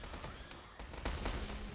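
Video game artillery and bombing assault with howitzers and bombers, heard as a dense barrage of overlapping booms and blasts that keeps going without a break.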